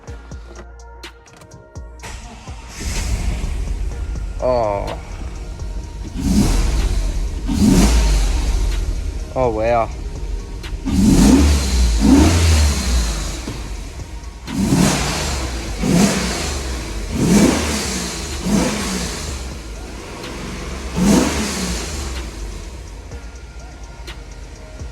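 A Holden VS Commodore ute engine starts and revs repeatedly in strong, throaty bursts, close by, with brief exclamations from a person between revs.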